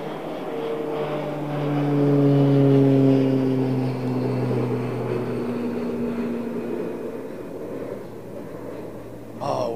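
A large jet airliner climbs away after takeoff, a steady roar with slowly falling drone tones that swells and then gradually recedes into the distance.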